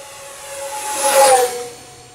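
Twin 40mm EDF X-fly Su-57 Felon RC jet passing at half throttle, a thin rising-and-falling whine with a hissing rush that swells as it goes by, then fades.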